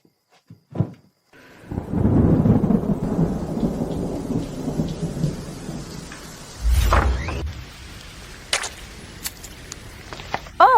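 Heavy rain pours down through a thunderstorm, with loud thunder rumbling close by, a sharp crack partway through and further scattered rumbles and knocks over the steady downpour.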